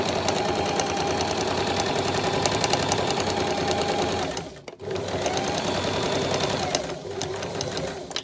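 A sewing machine stitching a French seam along a 1 cm line: a steady, loud, close mechanical whir with rapid needle rhythm, pausing briefly midway before continuing.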